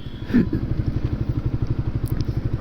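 A Suzuki GSX-R150 motorcycle engine drones steadily on a highway with a pulsing low rumble, close and continuous, with a brief thump near the start.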